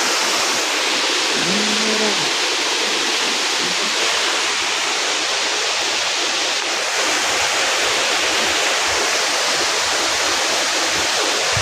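Water rushing over a village weir, a loud, unbroken roar of falling flow filling the whole scene with no letup.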